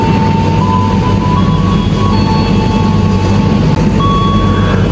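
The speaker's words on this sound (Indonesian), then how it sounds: "kereta api Sawung Galih utama masuk di jalur 4 jalur 6 stasiun Cikarang" A KA Sawunggalih Utama passenger train pulling into Cikarang station, a loud, steady, close rumble of wheels and engine with faint high tonal whines over it and no pauses.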